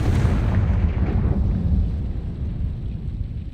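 A Confringo fire spell explodes in the Hogwarts Legacy video game, a loud, dense rumbling blast that rolls on and slowly fades over a few seconds.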